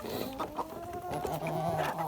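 A Leghorn hen clucks in short, repeated bursts close by, with other faint barnyard chatter in the background.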